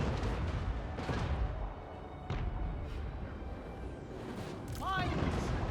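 Cannon fire from Grand Cathay artillery in the Total War Warhammer 3 video game, a dull boom or two within a dense, continuous battle din of clashing and shouting, with a speaking voice over it.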